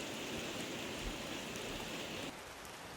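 Heavy rain pours steadily onto an outdoor DIY rainwater barrel collection system, a dense, loud, continuous hiss of drops that eases slightly near the end.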